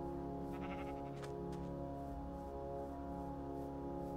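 Bleating sheep in the Minecraft video game, a pink sheep, a couple of short calls rising early on over steady game background music.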